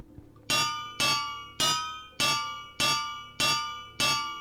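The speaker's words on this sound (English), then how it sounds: "Get the hammer." Seven evenly spaced metallic hammer strikes ring out from a crafting video game, each a bright, clanging hit with a bell-like ring that decays before the next, loud and alone with no talk over them.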